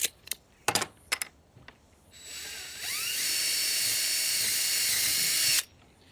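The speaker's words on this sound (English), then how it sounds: "drilling a hole down the bottom rail for our rope" A power drill bores into a wooden trestle-leg rail: a few sharp taps, then the high motor whine spins up and holds steady for about three seconds before cutting off abruptly, close and clear with no talk.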